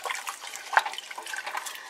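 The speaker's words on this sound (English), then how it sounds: "I'm going to put my potatoes and the water that they were soaking in there." Soaked potatoes and their soaking water are poured into a pot of soup, a close liquid splash and trickle with a few sharper plops.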